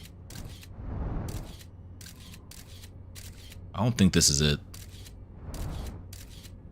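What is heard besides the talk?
camera shutter sound effect in the video game Outer Wilds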